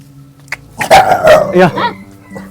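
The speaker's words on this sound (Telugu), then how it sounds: "ఈ కుక్క సడన్గా అరిసింది నా మీద" A dog lets out a loud, sudden run of barks close by at a forest dwelling, a short harsh burst lasting about a second before it falls quiet.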